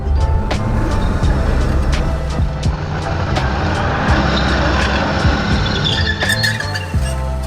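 2020 Toyota RAV4 TRD Off-Road with both front drive wheels on rollers and only the left rear wheel gripping, a loud, close, sustained engine roar under acceleration with intermittent clicks and rattles.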